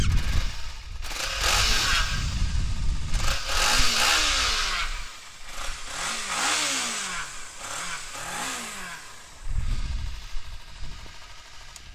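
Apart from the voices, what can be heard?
sport motorcycle engine revving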